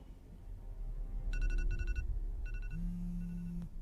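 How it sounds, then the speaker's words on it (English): An alarm clock rings in short bursts of repeated electronic beeps, then shifts to a steady tone, over a low background hum. "You set that alarm last night."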